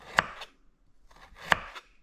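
A knife slices sharply through jalapeño peppers on a board: two distinct chops with a short pause between them, close and crisp.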